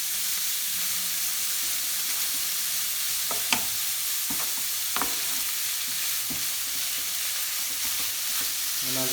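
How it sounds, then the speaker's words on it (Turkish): Garlic sautéing in a pan for a salmon and cream fettuccine, a steady close sizzle with occasional stirring scrapes and clinks throughout. "Şimdi sarımsağımızı atıyoruz. Sarımsakla beraber bir sotelenecek."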